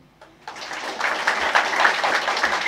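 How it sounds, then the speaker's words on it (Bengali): Applause from a lecture audience starts suddenly and builds into a steady patter of many hands, moderately loud, with a faint voice near the start. "তোমরা এবার না বুঝে একটু হাততালি দাও"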